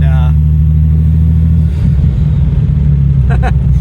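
A Porsche 930 Slantnose Turbo 911 Flachbau drives hard, its engine roaring loud and close with a deep throaty rumble that dips briefly as the revs shift, then pulls strongly again.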